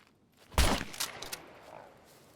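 Explosion in the survival game SCUM, a sudden sharp blast that booms and crackles after a quiet start, followed by a few quieter echoing pops and a fading rumble.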